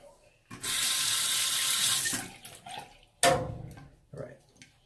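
A bathroom sink tap gushes loudly for about two seconds, then water splashes and drips in short bursts as it is scooped onto skin before shaving.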